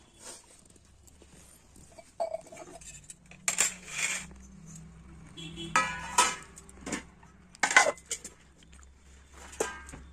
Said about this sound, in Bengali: ঠিক আছে চলো তাহলে ভাতটা বেড়ে দেওয়া যাক